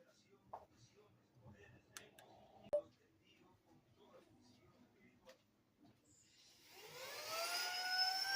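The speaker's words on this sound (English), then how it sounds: "But first I have to vacuum my chair." Vacuum cleaner starting up to clean a chair, a rising whine that swells from near silence into a loud steady whir during the last seconds, after a few soft knocks.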